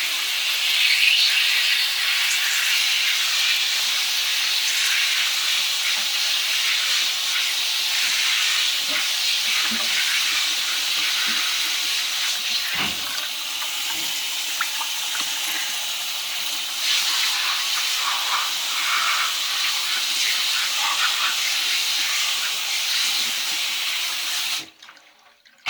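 Steady tap water pours and splashes over a rawhide strip being rinsed in a sink, a continuous close hiss lasting nearly the whole time before cutting off abruptly at the end.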